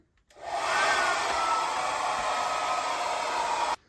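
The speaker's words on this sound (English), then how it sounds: "But definitely a strong hair dryer." An 1800W foldable ionic hair dryer blasts steadily at close range, a loud constant whoosh of air that switches on abruptly and cuts off sharply after a few seconds.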